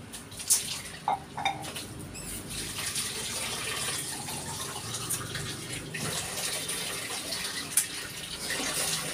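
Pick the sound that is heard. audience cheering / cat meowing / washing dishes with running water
washing dishes with running water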